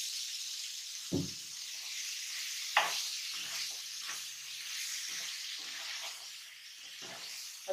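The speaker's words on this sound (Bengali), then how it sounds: "এবার সেই পেঁয়াজের মধ্যে আমি টুকরো করা মিষ্টি কুমড়াগুলো দিয়ে দিলাম" Pumpkin cubes fall into a pan of frying onions with a sudden thump and clatter, followed by a soft, steady sizzle and a few scraping stirs of a spoon.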